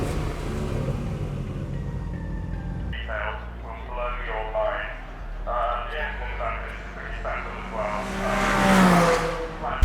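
A Porsche 718 GT4 at Goodwood Festival of Speed drives past, its engine revving and rising in pitch toward a louder surge near the end, with people talking over it.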